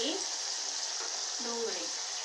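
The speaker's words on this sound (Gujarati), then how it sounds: "પછી નાખીએ આપણે ડુંગળી." Onion hits hot oil and fries with a loud, continuous hissing sizzle that stays even throughout. A voice speaks faintly underneath.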